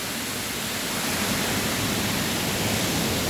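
A waterfall in Chiang Mai, Thailand roars as a constant, broad rushing hiss heard up close, steady and unbroken with no voices over it.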